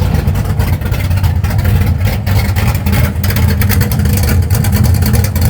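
An old, ratty car sits running in the open while a trailer is moved nearby, its engine giving a loud, steady low rumble with slight fluctuations, close by and without talk.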